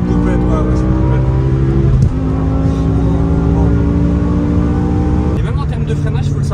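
BMW M3 G80 coupe engine revving hard under acceleration in third gear, a loud steady drone that rises in pitch, dips briefly, then climbs again, with the car's cabin noise constant throughout.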